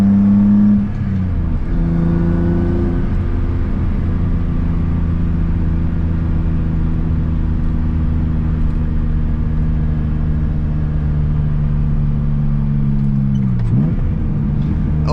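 A BMW E30 with a swapped-in M50 engine accelerates hard from inside the cabin, the engine note climbing steadily through a long pull with a brief shift near the end, loud and continuous.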